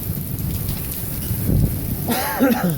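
Severe thunderstorm in Lawton, Oklahoma: steady heavy rain hissing on surfaces with low rumbling thunder rolling underneath and a brief spoken voice near the end.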